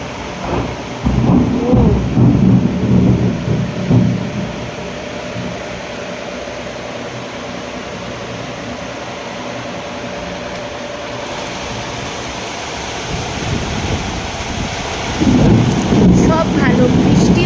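A thunderstorm with heavy rain and rolling thunder. Loud rumbling bursts come at the start and near the end, with steady rain noise in between.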